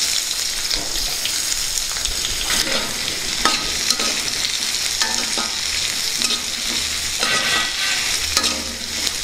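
Green chilies and chopped onions fry in hot oil with a steady, close sizzle, broken by repeated scraping stirs of a spatula against the pan, continuous throughout with no talking.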